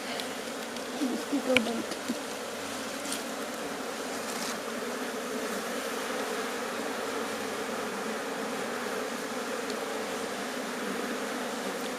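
Honeybees swarm around a beekeeper's hives at a home in Aluvale, producing a continuous, even buzzing drone with a few faint knocks near the start.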